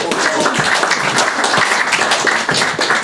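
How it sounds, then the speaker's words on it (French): A lecture audience applauds a speaker arriving for a talk on agriculture and ecology, a steady dense wash of claps at fairly loud level with faint voices mixed in. "C'est pourquoi je vous demande d'applaudir M."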